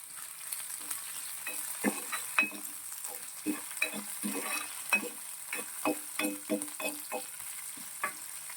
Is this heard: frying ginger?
yes